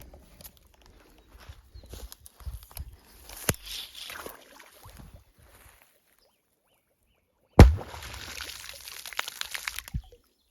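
A Pyro-5 training grenade thrown into water goes off with a single sharp burst about two-thirds through, followed by splashing and spray; before it, quiet faint handling noises.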